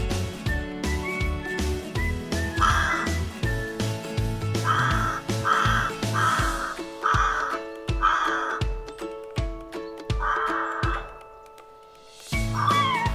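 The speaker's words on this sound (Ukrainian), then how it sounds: "Найпершими у березні прилітають граки." Rooks caw repeatedly in harsh bursts, several calls spaced across the clip, over a steady musical background.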